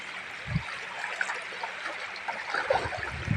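A river being crossed on foot, its water flowing in a steady, close rushing wash with a few brief splashes and no talk.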